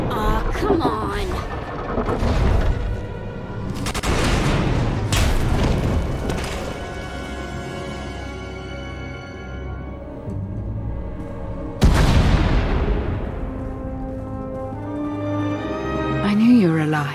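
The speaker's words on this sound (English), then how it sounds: "We heard explosions. The tunnel collapsed." Deep booming blasts and heavy thuds from explosions and a collapsing tunnel in the video game Star Wars: The Old Republic, several loud impacts spread across the stretch with rumbling decay between them.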